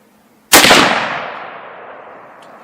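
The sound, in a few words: rifle gunshot, Weatherby Vanguard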